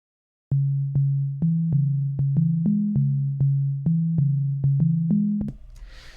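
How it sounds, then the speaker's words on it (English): A pure, steady sine tone plays alone in a series of evenly spaced notes, stepping slightly up and down in pitch, then cuts off into brief noise. "Just simply choose an oscillator and have it set to a basic sine wave."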